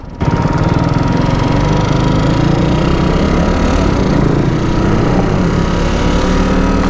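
A KTM RC 390 BS4 motorcycle engine running, with slight vibration noted at the front fairing or engine head, giving a steady loud, close buzzing drone after a sudden start with no voices over it.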